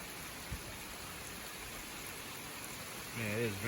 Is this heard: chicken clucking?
no